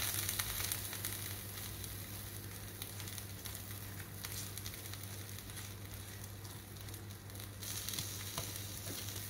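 Masala dosa frying on a hot pan over a slow flame, a steady, dense sizzle and crackle that holds evenly throughout, close by with a low hum underneath and no talking.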